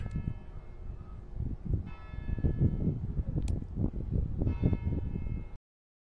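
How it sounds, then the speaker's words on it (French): Church bells ring out over the town of Sagunto, Spain, heard from the hilltop castle as a sustained, moderately distant chime layered over wind and rustling, stopping abruptly near the end. "Et on entend les cloches."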